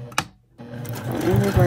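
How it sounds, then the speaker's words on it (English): A sewing machine stitches an apron in bursts: a short run, a brief pause, then steady stitching that builds to a close, loud whirr with changing speed, reversing and sewing to the edge. "press your foot down, start sewing, go in reverse, sew again to the edge"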